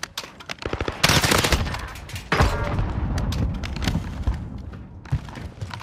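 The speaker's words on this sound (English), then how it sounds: "That's a fucking rocket launcher." Rocket launcher fire in a video game: a loud, booming launch and impact burst follows scattered rapid shots, with more bursts of gunfire and thuds trailing after it.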